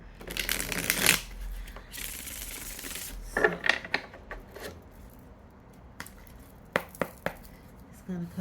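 A deck of tarot cards is shuffled up close in quick riffling bursts. Scattered sharp card snaps and taps follow at uneven intervals, fairly quiet and with no voices.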